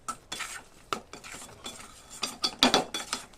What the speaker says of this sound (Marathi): हे मिश्रण आपल्याला तोपर्यंत परतवायचं आहे जोपर्यंत छान घट्ट बनत नाही